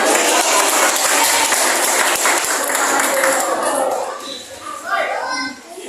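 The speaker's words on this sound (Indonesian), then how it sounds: "Tepuk tangan dulu dong." Loud, dense clapping from an audience of children and adults at a Hindu Sunday school gathering, mixed with chattering kids' voices, fades after a few seconds as voices take over.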